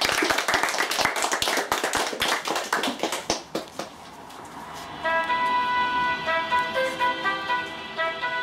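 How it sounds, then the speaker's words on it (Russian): An audience at a What? Where? When? quiz game event in Rubtsovsk claps loudly in a steady rhythm for several seconds, then the clapping stops and tonal music begins. "Еще раз все аплодисменты."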